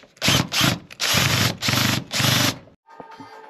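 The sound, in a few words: unscrewing bolts from ventilation unit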